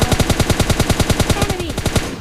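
Rapid automatic gunfire from PUBG Lite, a steady stream of about twenty evenly spaced loud shots that stops abruptly at the end.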